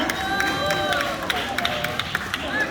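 Steady audience applause with crowd murmur greets a prize winner at a prize draw during a disability sports badminton tournament. Clapping and voices overlap throughout.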